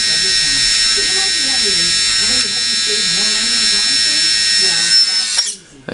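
Steady high electric whine of a Lesu roll-off hoist arm on a MAN TGX model truck extending out, close and continuous, with a voice talking underneath, stopping abruptly near the end.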